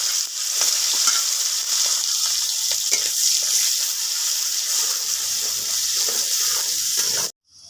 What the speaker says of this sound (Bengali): মশলাটাকে ফুটিয়ে নিয়ে দিয়ে দিব পেঁয়াজ কুচি।